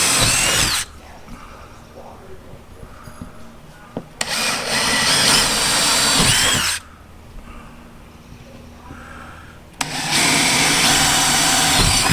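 A power drill whirs loudly in three long bursts, each several seconds, drilling into cement backer board for a shower, with quieter gaps of handling noise in between.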